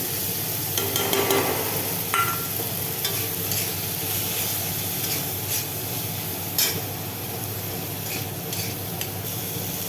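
Potato pieces fry in a pan with turmeric and salt, a steady sizzle broken by repeated scraping strokes of a spatula stirring close by, with no voices.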